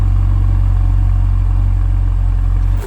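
Ferrari 488 engine with exhaust valves open, a loud, steady low rumble close by that holds nearly constant throughout before cutting off abruptly at the end.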